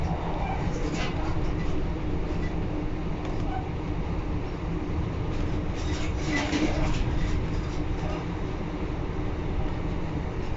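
Onboard a Class 156 Sprinter diesel train, a steady rumbling drone of running gear and engine fills the carriage, with faint rattles and brief clunks over the track and no speech.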